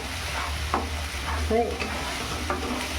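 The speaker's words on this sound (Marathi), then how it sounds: "ढवळून व्यवस्थित शिजवून घ्यायचे आपल्याला" Onion paste stirred and frying in a pan for a masala vangi (spiced brinjal) curry, a steady soft sizzle with a few scraping spoon strokes, close and moderately loud, no talking.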